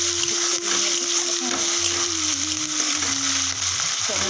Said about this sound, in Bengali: মা মশলাটা কষিয়ে নিই